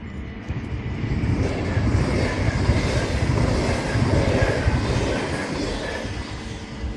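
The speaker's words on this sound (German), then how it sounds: "Da kommt ein Zug." A train rolls past near the Montfort landfill during a countryside hike, producing a steady, loud rumble and rattle of cars that holds for several seconds.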